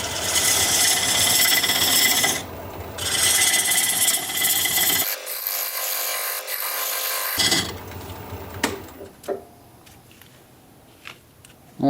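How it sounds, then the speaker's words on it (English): Wood turning on a lathe with a diamond point tool squaring the sides of a tenon on olive wood: a close, continuous scraping and rasping with brief pauses, fading to scattered light taps near the end. "Now I'm going to use this diamond point tool to square up the sides of the tenon."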